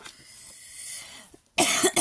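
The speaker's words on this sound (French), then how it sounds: "Ma toux, malheureusement, est encore là." A couple of sharp, loud coughs burst out close by after a quiet pause, the second following quickly on the first.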